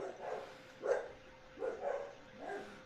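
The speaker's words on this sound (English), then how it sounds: "My dogs go bark, bark." Dogs bark in three or four separate bursts spread over a few seconds, each bark fairly loud and close, with no talking over them.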